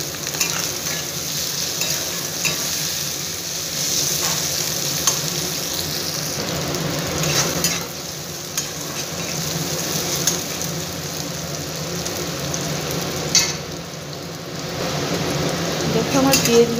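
Onions fry in oil with salt and turmeric until browned, destined for a bean-seed dal: a continuous close sizzle with constant stirring scrapes and soft clatter from the pan.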